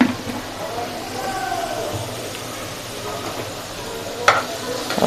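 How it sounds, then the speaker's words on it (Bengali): Chhana and sugar being stirred and fried in a pan give a moderate sizzle with scraping stir sounds and a sharp clink near the end, while a voice talks faintly underneath. "ভালো করে নেড়ে ছেড়ে ছানাটাকে ভাজা ভাজা করতে হবে, চিনি এবং ছানা"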